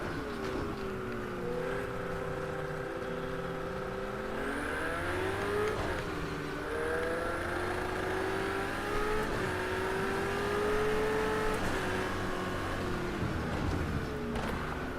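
A Corvette race car in a video game, its engine holding a steady high droning whine that climbs and dips in pitch with shifts and throttle, loud and continuous throughout.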